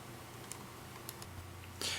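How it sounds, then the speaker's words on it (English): A few faint computer mouse clicks tick sparsely and close against a quiet hiss, followed by a brief louder rustle at the end. "You probably noticed a couple mouse clicks at the end."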